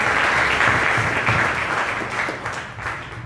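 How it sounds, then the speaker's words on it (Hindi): A church congregation applauds during a sermon, a full, steady wash of clapping from many people that eases slightly near the end. "जोरदार तालियां खुदा के जलाल के लिए"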